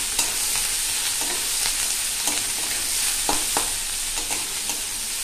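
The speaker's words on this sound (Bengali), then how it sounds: "পেঁয়াজ দিয়ে আগে একটু নাড়িয়ে নেব।" Chopped onions frying in hot oil while being stirred, a constant close sizzle broken by repeated scraping strokes of the spoon against the pan, with no voices.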